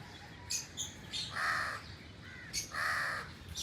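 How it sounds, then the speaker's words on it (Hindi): Several loud crow caws ring out in two bursts, harsh and nasal, with a few fainter bird calls between them against a damp, drizzly outdoor background. "कौवे भी बेचारे भीगे हुए।"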